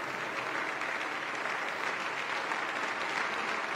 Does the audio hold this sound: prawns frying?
no